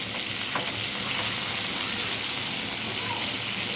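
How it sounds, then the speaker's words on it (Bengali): Marinated chicken pieces frying in a pan after onions were browned, a dense continuous sizzle with faint stirring, no talk over it. "এবার আমি মাংসগুলো ভেজে নেব"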